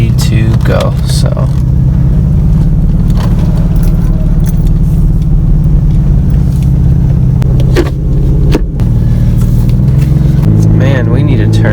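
A warmed-up Lexus IS300 sedan runs with a loud, steady low engine drone heard from inside the car, with a few brief clicks and knocks partway through.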